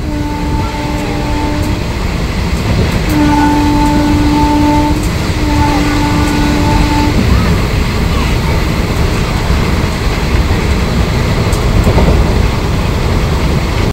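The Digha Special passenger train races along at speed with a loud, continuous rolling roar, steady tonal whines rising and fading above the rumble early on.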